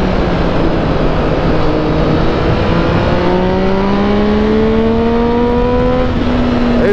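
A motorcycle engine revving hard at high rpm with a racing-car-like tone, a loud, steady drone whose pitch climbs smoothly through the revs, close up and with no talking.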